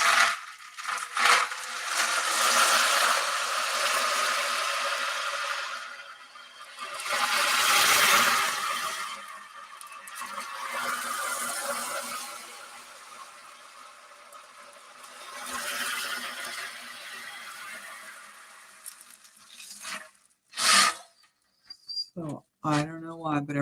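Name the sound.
ocean drum played to imitate ocean waves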